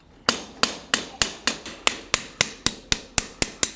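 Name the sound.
farrier's hammer working a horseshoe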